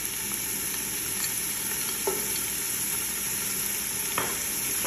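Onion with garlic sizzling steadily in hot olive oil, a continuous close frying hiss with occasional light scrapes of a utensil stirring the pan.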